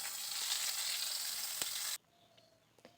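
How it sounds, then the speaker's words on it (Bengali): Eggplant pieces frying in hot oil in a wok for a dhone begun dish, a loud steady sizzle that cuts off abruptly, followed by faint clinks. "এবার তেলটাকে গরম করে নেওয়ার পর বেগুনগুলোকে ভেজে নিচ্ছি"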